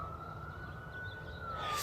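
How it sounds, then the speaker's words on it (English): Sirens of emergency vehicles down in a city on a Sunday morning, heard from a hillside as a faint, distant sustained wail under wind and ambient noise, no talk. "so many sirens going on down there in the city"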